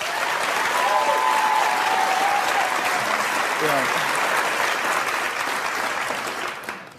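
Loud, sustained studio audience applause on a TV talk show, with a few whoops and a brief voice rising over the clapping, tapering off near the end.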